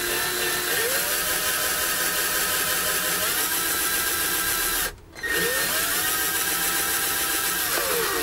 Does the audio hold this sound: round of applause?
no